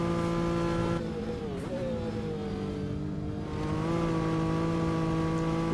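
A 1960s touring race car in the Assetto Corsa racing game drones steadily with a strong harmonic engine tone, its pitch dipping and rising as it shifts and accelerates, loud and continuous with no talk.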